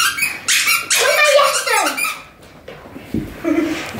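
Squeaky toy squeezed several times in quick bursts, bright high squeals close by, followed by a short gap and a softer squeak, with a young puppy nearby.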